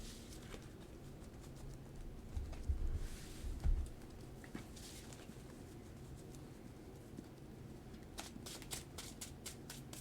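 A deck of Magic: The Gathering cards is shuffled, with a soft, close, rapid riffle of cards near the end, after some quieter handling and muffled bumps.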